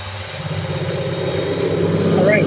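A Farmall 826 tractor engine runs at rising throttle with the PTO engaged while haying, a steady loud engine drone building slightly in level, with voices speaking over it.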